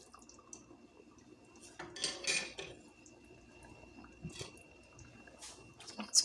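A spoon is scraped and tapped clean against a pot of Hyderabadi bagharay baingan. A few soft metallic clinks and scrapes come through quietly, with one brief louder rattle in the middle and nobody talking.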